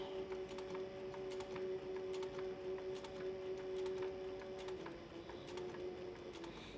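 An industrial sewing machine stitches a seam through leather for a canteen purse, running as a steady mechanical hum with a fine rapid needle ticking throughout, close and continuous with a slight drop in pitch near the end.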